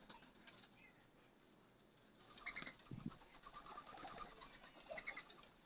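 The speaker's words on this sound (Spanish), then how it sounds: "Hay un rolón de monte ahí queriendo anidar." A wild dove, a rolón de monte, coos near its nest, giving faint low soft calls against quiet outdoor background noise. Sharper chirps from other birds come and go around it.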